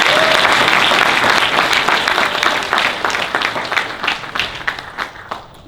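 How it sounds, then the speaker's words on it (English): Crowd applauds a guest being introduced for an interview at the Agenda trade show, a dense, loud burst of clapping that gradually thins and fades over several seconds. "Let's get a round of applause."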